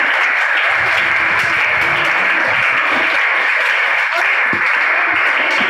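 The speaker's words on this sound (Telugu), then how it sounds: "అందరు మరొకసారి చప్పట్లు కొడదాం." An audience at a Vacation Bible School devotional class breaks into loud, sustained applause, a dense wash of clapping with a faint voice under it.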